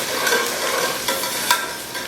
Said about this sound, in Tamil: இந்த இலை, பட்டை, பெருஞ்சீரகம், ஏலக்காய் எல்லாம் இதில் போடுறேன்